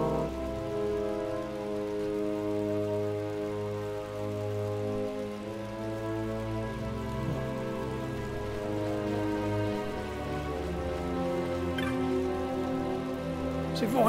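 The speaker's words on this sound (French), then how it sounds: "Alors, il pleut." Rain falls in Final Fantasy XII: The Zodiac Age, a soft, continuous patter over a steady, layered game soundtrack, with no speech.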